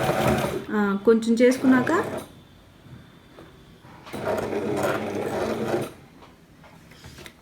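Brother GS1700 sewing machine stitching, with a fast mechanical whir in two bursts of about two seconds each, separated by a pause, while someone speaks over the first run.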